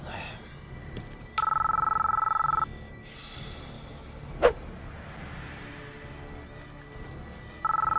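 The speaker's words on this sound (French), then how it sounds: "il reçoit un téléphone par colis qui se met à sonner dès qu'il le prend en main" A telephone in the film The Matrix rings in a long steady electronic tone, stops, then starts ringing again, with a sharp click in the quiet between.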